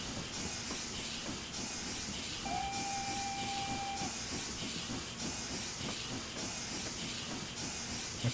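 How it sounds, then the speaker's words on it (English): A steam locomotive in Train Simulator 2014 on the West Somerset Railway hisses steadily and loudly throughout, with a rhythmic chuff underneath and a clear steam whistle sounding briefly in the middle. "Train's making some lovely sounds."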